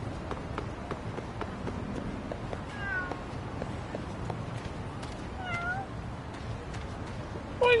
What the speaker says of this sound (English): I heard kitties.